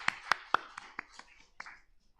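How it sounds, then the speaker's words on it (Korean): A church congregation gives a short round of applause during Sunday worship, starting with a few sharp distinct claps that quickly thin and fade, fairly quiet and without speech. "우리 하나님께 찬양과 영광의 박수를 올려드리겠습니다"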